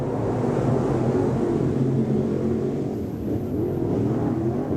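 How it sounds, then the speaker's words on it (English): IMCA Late Model race cars pulling away at the start of a heat race at Off Road Speedway, a loud, steady, blended engine roar from a distance with no talk. "Heat race number 2 in your IMCA Late Models"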